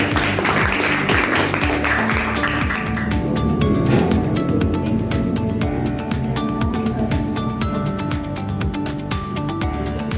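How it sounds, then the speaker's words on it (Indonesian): A classroom group claps for a sustained stretch, dense and fairly close at first and then thinning slightly toward the end, with no clear talking over it. "Beri tepuk tangan ya."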